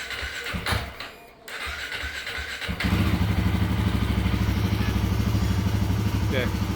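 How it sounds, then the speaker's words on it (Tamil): A Royal Enfield Himalayan 450 motorcycle fires up after a brief crank, settling into a steady, loud, close rumbling idle that runs on, with some speech and handling noise just before the start. "Let's start the bike."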